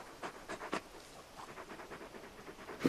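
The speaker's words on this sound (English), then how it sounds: "You're just a big puppy, aren't you?" A big dog in the Final Fantasy 16 video game pants in quick, rhythmic breaths at moderate volume, with no talking over it.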